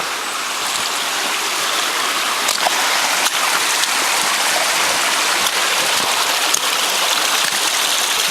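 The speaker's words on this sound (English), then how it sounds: "Because that's full force water coming through there." Water rushing at full force through a ram pump beside a low river, a steady dense hiss and roar throughout with no bubbling or pulsing, close and constant.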